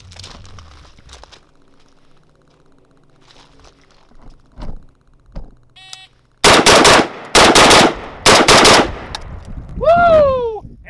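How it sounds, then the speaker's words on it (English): Rifle gunfire from a Zastava ZPAP M70 AK-pattern rifle during a nine-shot drill at a range: three loud, close bursts of rapid shots, with quieter handling sounds before them and a brief whoop of voice afterward. "this is a 9-shot drill with my Zastava ZPAP M70, basically an AK47"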